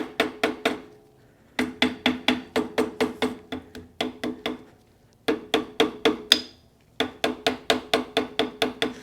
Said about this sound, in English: Just going to take a little rubber-handled hammer.